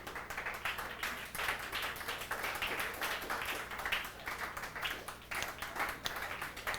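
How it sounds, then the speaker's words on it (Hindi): Students in a classroom break into a continuous round of applause, dense overlapping hand claps sustained at an even level throughout, fairly close. "सब लोग ताली बजाते हैं इसके लिए"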